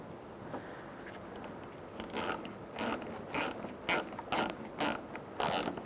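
Socket ratchet tightening a bolt on the front inner fender liner of a 2000-2007 Ford Taurus, close bursts of rapid clicking in short strokes repeated at a steady pace with brief pauses.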